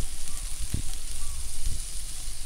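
String beans with chilli pepper sizzling steadily in a frying pan, a continuous crackling hiss with a couple of louder bursts as the beans are stirred, no voices.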